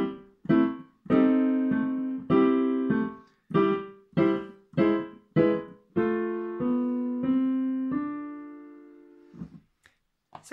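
A piano plays a short piece from the second volume of a piano method, both hands together, in a series of evenly spaced detached chords and notes, close and clear, ending in a sustained note and a brief trailing noise.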